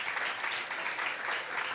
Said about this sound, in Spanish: Un aplauso fuerte a Cristo Jesús.